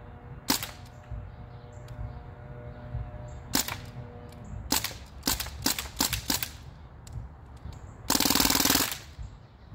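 A DPMS Panther Arms short-barreled rifle fires in semi-auto. About eight sharp, loud shots crack out at uneven intervals, some in quick succession, followed by a longer harsh rushing burst near the end.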